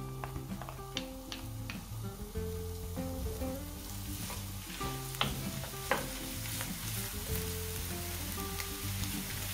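Chopped onion frying in a pan of hot oil, a steady soft sizzle running beneath prominent tonal music with harmonic notes and occasional light clicks, no talking.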